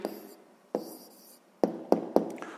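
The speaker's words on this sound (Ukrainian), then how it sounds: "записуємо тоді відповідь" Pen strokes scratch on paper as a sixth-grade math answer is written down, a few short bursts with sharp taps between pauses, close and quiet.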